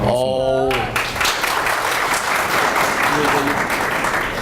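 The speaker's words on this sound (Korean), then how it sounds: "박수 주세요." An audience at a company event applauds as an employee is called up, a steady roar of clapping that follows a brief musical sting at the start, with a voice briefly heard over it.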